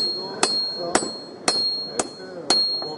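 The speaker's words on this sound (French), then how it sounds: "quand je tape comme ça, mon marteau tape au même endroit" A blacksmith at a forge in Metz hammers hot iron in five sharp, ringing strikes spaced about half a second apart, close and clear, with a faint sustained ring between blows.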